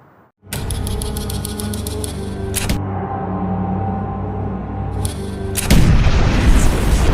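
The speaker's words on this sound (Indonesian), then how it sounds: "Tiba-tiba terdengar suara tembakan." Sharp, booming gunshots crack over a loud, sustained musical backdrop, with one hit early on and a heavier blast near the end.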